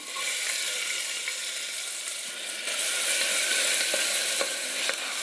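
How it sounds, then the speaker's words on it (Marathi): Chopped onion fries in oil inside a pressure cooker, giving a steady bright sizzle with occasional soft stirring scrapes and clicks. "अर्धा मिनिट आपल्याला हा कांदा तेलात चांगला परतून घ्यायचा आहे"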